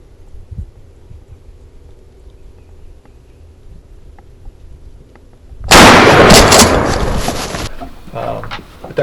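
A hunter's shotgun fires at a longbearded wild turkey in the Virginia woods, one sudden loud close blast that breaks a quiet stretch and rings out for about two seconds before fading into rustling.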